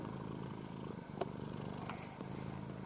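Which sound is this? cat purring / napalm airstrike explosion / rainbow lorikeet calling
cat purring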